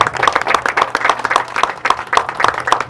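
Audience applause at a ceremony presenting the Orden Gran Cacique Nigale 2020: steady, dense clapping from a crowd that keeps going at an even level for the full stretch, with no voices standing out.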